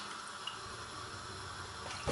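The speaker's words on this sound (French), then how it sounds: "Je vais mettre un peu d'eau." Water poured into a pot while cooking liboke with shrimp, a brief quiet steady trickle and splash lasting about two seconds, with no talk.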